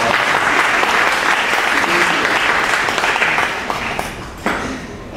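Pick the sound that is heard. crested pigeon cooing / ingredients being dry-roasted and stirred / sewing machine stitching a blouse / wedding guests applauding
wedding guests applauding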